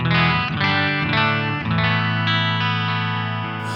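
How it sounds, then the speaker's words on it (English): Electric guitar played through a Nux Verb Core Deluxe reverb pedal on its room setting, a few sustained distorted chords ringing close and loud with a light, subtle reverb wash. "it's just a nice subtle reverb."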